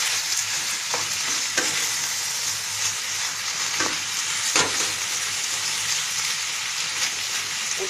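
Tomatoes and peppers go into frying meat, giving a steady, close hiss of sizzling with a few sharp clicks and scrapes from stirring scattered through.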